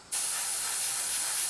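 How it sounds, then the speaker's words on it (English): An airbrush sprays thinned NATO black primer onto a 1/48 scale Tamiya Spitfire Mk.1 model in a steady, close, continuous hiss that starts abruptly and holds evenly throughout. "I've got some thinned off here, so I'm just going to spray that through."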